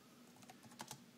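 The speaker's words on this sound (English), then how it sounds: "Typing, of course, works." Quiet typing on a Logitech diNovo Bluetooth keyboard for an iPad: a quick run of soft key clicks, close by, in a quiet room with no talking.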